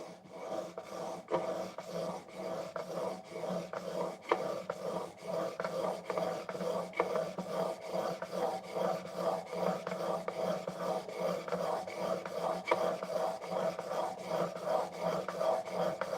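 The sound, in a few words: sharpening a blade on a 3,000 grit stone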